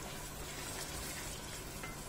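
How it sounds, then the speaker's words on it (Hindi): Vegetables and whole spices for a Punjabi chicken gravy fry in a pan, making a dense, even hiss of sizzling oil heard close and unbroken, with no voices. "इसको हम 5 मिनट फ्राई करेंगे"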